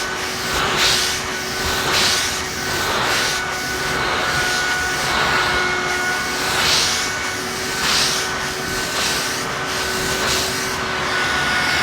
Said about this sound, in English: Vacuuming for the camera.